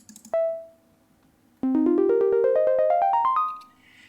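A single synth note, then a quick rising run of bright electronic tones climbing a pentatonic scale, evenly spaced and loud, ending abruptly.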